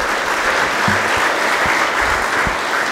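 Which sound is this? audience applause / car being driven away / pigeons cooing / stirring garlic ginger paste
audience applause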